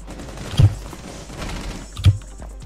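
Gunfire in the tactical shooter game Rainbow Six Siege: two distinct sharp shots about a second and a half apart, ringing out over a low, busy game background.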